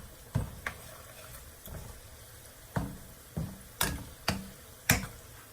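Scoops of oil poured into a pan of frying onion, garlic and chili oil give a series of sharp sizzling bursts, about seven spaced hits rising over a low steady crackle of frying.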